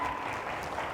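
Audience applause for a guest at a sales and technology coaching talk, a brief continuous wash of clapping heard alone.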